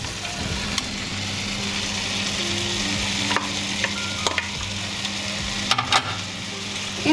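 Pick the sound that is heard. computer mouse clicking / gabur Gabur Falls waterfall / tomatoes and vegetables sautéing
tomatoes and vegetables sautéing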